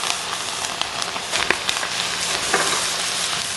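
Bagoong fried rice sizzles steadily in a pan as it is stirred, with a constant frying hiss and a few faint scraping clicks, heard close and alone with no talk.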